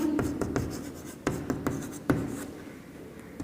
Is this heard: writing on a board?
yes